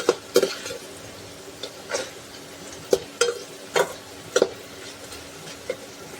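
Green peas fry in a pan over heat while being stirred; a faint sizzle runs under repeated close scraping strokes of a spoon against the pan, coming every half second or so in an uneven rhythm.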